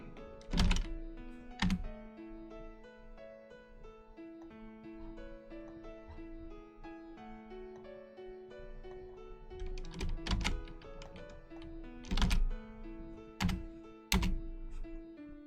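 Typing on a computer keyboard, a steady run of soft key clicks with several louder, heavier thunks, heard close up over a quiet background drone.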